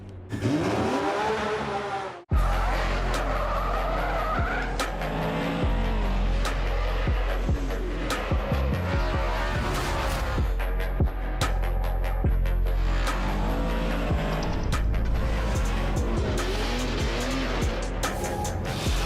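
A Formula Drift pro car at the New Jersey round skids through a long slide, its tires squealing loudly over the roaring engine for nearly twenty seconds, after a brief cut-off near the start.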